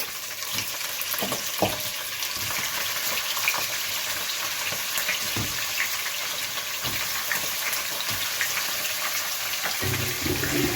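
Beef pieces fry in melted butter and oil inside a granite pot, a soft continuous sizzle broken by occasional clicks and stirring knocks, with no voices.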